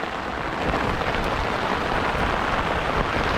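Heavy rain pours down outdoors during a fishing trip, a dense, steady hiss and rumble that fills the whole stretch without a break and with no voices.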